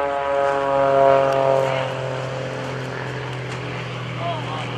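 A propeller airplane flown by Gary Ward sets up to land at the 2015 Greenwood Lake Airshow, its engine drone sliding gradually lower in pitch, moderately distant, with talk over it.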